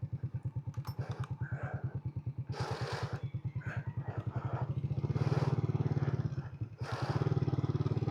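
A motorcycle idles close by as it is maneuvered at a campsite entrance in Laguna. Its rapid, even putter swells with a few revs partway through and continues without pause.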